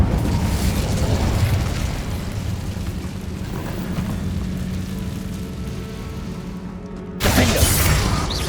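A fire spell explodes in the video game Hogwarts Legacy: a sustained low rumbling boom with crackling burst texture fills the scene, then a sharper loud blast hits near the end.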